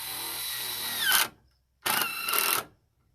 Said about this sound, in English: And I use an impact drill. And this is just a Black & Decker lithium 20.